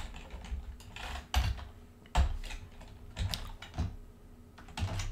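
Keystrokes on a computer keyboard while coding web page files, irregular bursts of clicks with a few louder key strikes, close and moderately quiet over a low steady hum.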